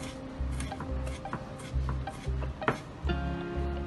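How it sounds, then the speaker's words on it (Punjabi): Rhythmic, repeated thuds of ginger being pounded and crushed finely, several strikes in a steady beat with faint scraping between them. "ਦੇਸੀ ਜਿਹਾ ਤਰੀਕਾ ਹੈ ਇਹ ਅਦਰਕ ਨੂੰ ਬਰੀਕ ਕਰਨ ਦਾ"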